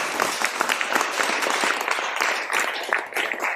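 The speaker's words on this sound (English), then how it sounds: "I would like for you to please give a nice round of applause to Jen" A gala audience at the L.A. Watts Summer Games Revival Legacy event claps in a steady, moderately loud round of applause for a CBS 2 and KTEL 9 assistant news director.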